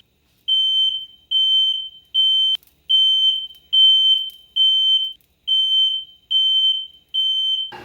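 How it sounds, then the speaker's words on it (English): A smoke alarm in a kitchen beeps loudly again and again, about nine shrill, evenly spaced tones with short gaps between them, with nothing else audible. "I turned on the fire alarm."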